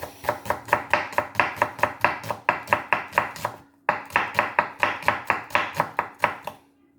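A knife coarsely chops an onion on a cutting board in steady, rapid strokes, each a crisp close thud, with a brief pause midway before the rhythm resumes.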